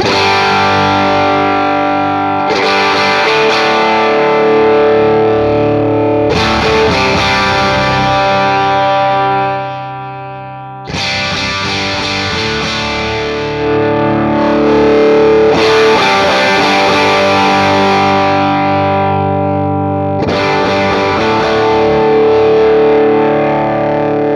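Electric guitar chords through a Jackson Audio Golden Boy overdrive pedal ring out loud and sustained, their tone shifting from brighter to darker as the EQ is swept, with a brief drop near the middle.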